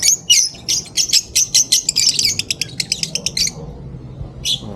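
Pet birds kept in pairs in cages at an animal fair chirp and squawk in quick, rhythmic bursts, loud and close, trailing off before one last call.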